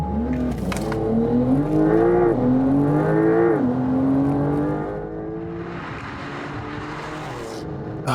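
A Porsche 911 of the 992 generation launches hard from a standstill, engine howling as it climbs through gears with sharp dips at each shift, loud and close, then easing to a quieter roll with faint tire noise.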